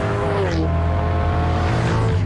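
Marcos TSO GT sports car with a 420 brake horsepower engine running at speed, a steady loud engine drone with harmonic whine and faint tire noise, with no speech heard.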